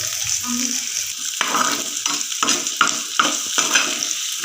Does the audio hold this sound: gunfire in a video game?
no